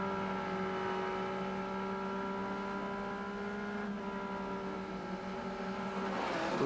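Touring race cars at Oran Park Raceway, including a Nissan BNR32 GT-R, holding a loud sustained engine drone with steady harmonic tones before a sharper rising burst near the end.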